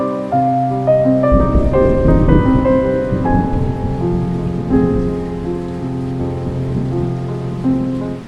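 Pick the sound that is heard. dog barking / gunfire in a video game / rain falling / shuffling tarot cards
rain falling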